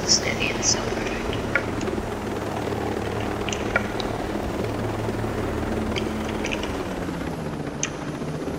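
A video game helicopter keeps up a steady rotor drone throughout, with scattered faint clicks and brief higher-pitched effects over the top and some low speech beneath it.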